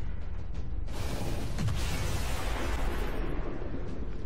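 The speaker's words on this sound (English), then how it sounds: "There's the explosion." A loud explosion in the video game XCOM 2 hits suddenly about a second in, then a dense rumbling roar with crackling debris fills the rest of the clip.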